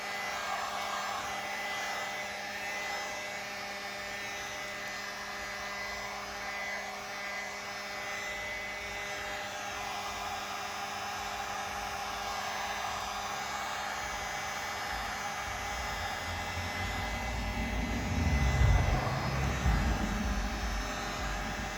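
A heat gun set to its lowest heat blows steadily on shrink wrap around a gift basket, a continuous airy whir held close and even for the whole stretch, swelling slightly near the end, with no talking.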